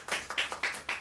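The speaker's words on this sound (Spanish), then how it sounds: "Un aplauso para los obispos." A few sharp hand claps in a church gathering honouring bishops, four or five quick, close strikes in an uneven rhythm over about a second.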